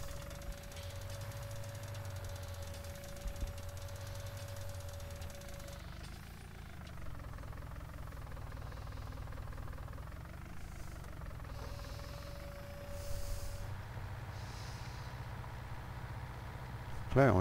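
Tractor engine in Farming Simulator 19 droning steadily while ploughing a field, a low rumbling hum with slight rises and dips in pitch, heard continuously and fairly close throughout.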